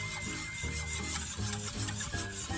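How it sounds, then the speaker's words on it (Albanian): Custard in a pot on the stove being stirred steadily, a continuous close scraping and rubbing with a faint repeating rhythm and no voices. "Kemi vënë në zjarr dhe trazojmë derisa të trashet."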